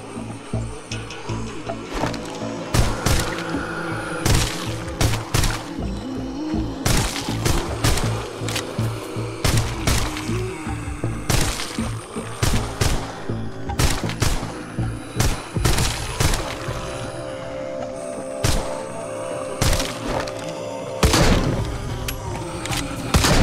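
Repeated revolver gunshots in the VR zombie shooter Arizona Sunshine during horde mode, sharp cracks fired in irregular bursts across the whole stretch with game ambience and creature noises between shots, no talking.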